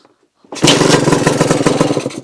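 Suzuki RM 125 two-stroke motorcycle engine catching on a kick start, bursting from near silence into a loud, steady, rapid revving roar that continues alone to the end.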